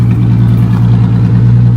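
A 2017 Mazda 6 engine and exhaust idling with a loud, steady low rumble and a constant hum, close by, with faint clatter and no talk.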